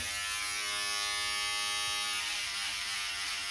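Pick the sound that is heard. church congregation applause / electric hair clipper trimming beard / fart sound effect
electric hair clipper trimming beard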